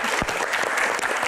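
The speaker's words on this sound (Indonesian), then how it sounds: "tepuk tangan dong" A short burst of audience applause at a stage Q&A event, with several distinct claps standing out over a busy, even wash of clapping.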